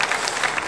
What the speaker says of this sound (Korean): 예, 박수로 환영합시다.